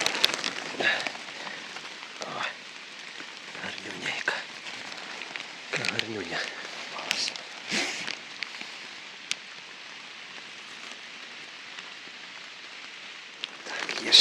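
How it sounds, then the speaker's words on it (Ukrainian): Steady rain patters on leaves and ground in a forest, a continuous soft hiss with a few louder drips and faint rustles, close by. "у нас дощик посилився трошки"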